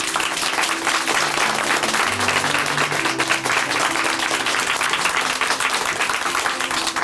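A church audience at a televised faith-testimony programme gives loud, dense, sustained applause with no break, over a faint low musical tone underneath.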